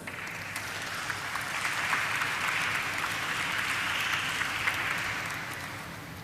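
Applause from an audience at a stock exchange listing ceremony for Flair Writing Industries Limited, welcoming a speaker; steady, dense clapping that swells and holds for several seconds before easing slightly, with no talk over it.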